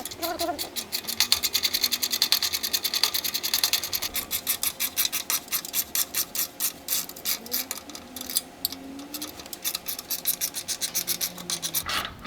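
Quick ratcheting clicks from a ball Allen socket on a ratchet backing out the exhaust bolts of a motorcycle fitted with an Imzz Elite Big D exhaust, steady repeated rasping bursts close up throughout.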